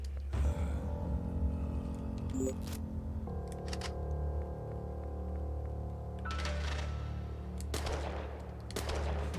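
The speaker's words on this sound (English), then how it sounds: "I'm trying to burn up all my shotgun ammo right now" Shotgun blasts go off in the video game Outbreak: The New Nightmare, several sharp bursts spread across the span over a steady humming game background, with no talk.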